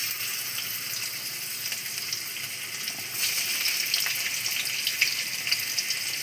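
Small chopped potato pieces sizzle in hot frying oil in a home kitchen as chowmein is started, a steady close crackle that grows slightly louder partway through, with no talking.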